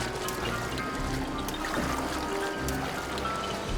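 A waterfall in the video game The Legend of Zelda: Breath of the Wild, a constant rushing water wash that stays steady and even throughout, moderately loud, with faint incidental game sounds and no talking.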